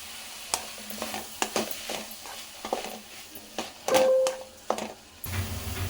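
Chopped onions and tomatoes fry in a pan for dhaba-style paneer butter masala, with soft sizzling under repeated scraping stirs and a few clinks of the spoon against the pan.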